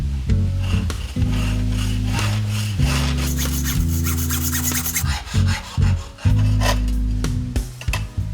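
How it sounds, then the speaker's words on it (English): A bolt being cut through near its end with the nut left threaded on, heard as steady, loud back-and-forth sawing strokes close by, in long runs with short pauses, during a wooden fishing reel refurbishment. "When I cut the end off, I'm going to make sure I keep the nut on there in case it's a burr"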